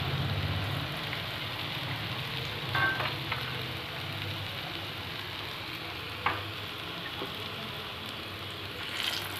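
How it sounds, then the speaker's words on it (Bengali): Red sweet potato sweets frying in oil over low heat, a steady broadband sizzle throughout with a few faint clinks and stirring knocks, no talking. "এবার আমাকে একটু আঁচটা কমিয়ে কমিয়ে ভাজতে হবে।"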